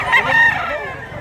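Rooster crowing at a gamefowl seller's gathering, a single loud, nearby drawn-out crow that rises and then trails off.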